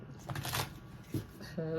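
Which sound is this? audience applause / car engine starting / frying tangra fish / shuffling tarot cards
shuffling tarot cards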